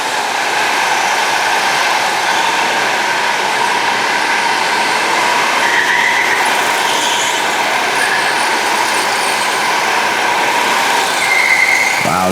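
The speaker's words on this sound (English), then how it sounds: "let this one play so you can hear these karts running, racing by" Gas-powered go-karts race around an indoor karting track, their engines producing a loud, continuous, steady drone that fills the whole stretch without letup, with faint talk beneath the engine noise.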